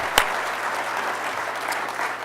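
Audience applauding at a county State of the County speech event by the DeKalb Chamber of Commerce, steady sustained clapping throughout with one sharp louder clap near the start, no talk over it.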